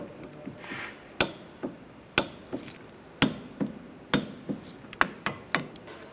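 A torque wrench tightens hub bolts on a 2007-2013 Mini Cooper wheel bearing assembly, producing a series of crisp, evenly spaced clicks and taps at close range, with no one speaking.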